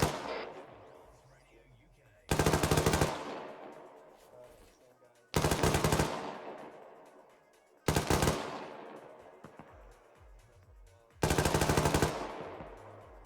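Four heavy bursts of automatic gunfire in the Arma video game, each loud volley cutting in abruptly and echoing away into a long decaying tail, spaced a few seconds apart.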